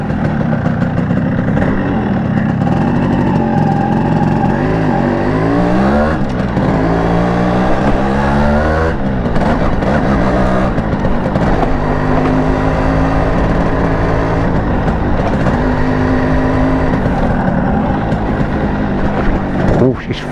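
A 1997 Yamaha RXG motorcycle, restored and modified, revs loudly and continuously while being ridden, its engine pitch rising and falling through gear changes across the whole stretch.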